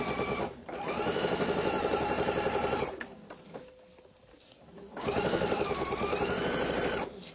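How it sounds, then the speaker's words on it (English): A sewing machine stitches a backpack along its seam line, the bag built with Soft and Stable foam; two sustained, loud runs of rapid mechanical stitching are separated by a short pause. "So I'm going to just sew this"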